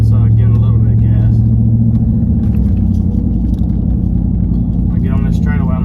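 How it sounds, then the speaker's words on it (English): A 2014–15 Chevrolet Silverado with no muffler, a 9-inch lift and 37x13.50 tires on 20-inch wheels, droning with a loud, constant deep exhaust rumble and light throttle from inside the cab, with a voice talking over it. "So that's getting a little bit of gas."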